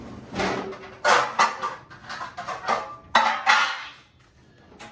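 Food set into a cast iron skillet: a series of close metallic clanks and scrapes of varying loudness over a few seconds, fading toward the end.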